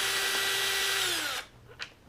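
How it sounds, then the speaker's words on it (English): A loud power drill whirs steadily for over a second, backing a bolt out of a Traxxas X-Maxx RC truck, its pitch sagging slightly before it cuts off, followed by a faint clink. "Put the drill to it."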